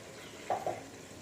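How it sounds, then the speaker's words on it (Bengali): Jackfruit, potatoes and mutton being sautéed in a pan, heard as two short, close scraping stirs in quick succession over a quiet background. "এঁচড়টা দিয়ে আলু মাংসটাও কষিয়ে নিলাম ভালো করে"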